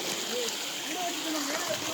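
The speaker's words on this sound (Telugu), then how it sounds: "ఇదే నిజమైన వాటర్ ఫాల్." TP Kotta Waterfalls in Andhra Pradesh, a steady broadband rush of falling water that stays constant and fairly loud, with a person talking over it.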